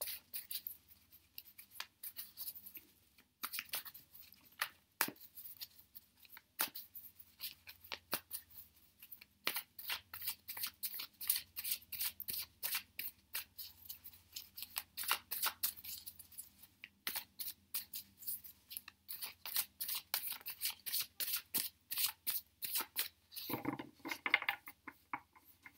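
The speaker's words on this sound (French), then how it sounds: "Donc là, vous mélangez vos cartes." Tarot cards shuffled by hand during a three-card love reading, a dense run of quick crisp riffling flicks and soft slaps, close and fairly quiet, steady throughout with no talking.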